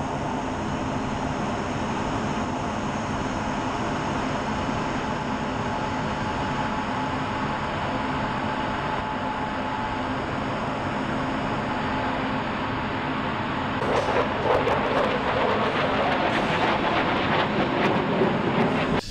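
An F-16 Viper fighter jet flying a demo maneuver at an air show, a continuous distant roar of jet engine that swells and grows harsher toward the end.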